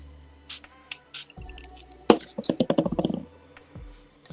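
Water spritzed from a spray bottle onto diamond dirt in small micro pans: several soft separate squirts, then a quick run of repeated wet squishing bursts, close up with no voices.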